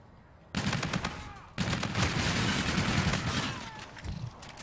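Rapid bursts of hip-fired gunfire in a fast-paced shooter game, loud and dense with sustained rattling volleys, a brief pause, then continuous firing that tapers slightly toward the end.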